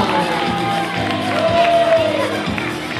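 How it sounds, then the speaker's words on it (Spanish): A crowd cheering and clapping for two young girls dressed as Harley Quinn at a children's carnival in Cabeza del Buey; loud, busy mix of shouts and whoops with a voice cutting through. "aplauso y grito para Lucía y Candela"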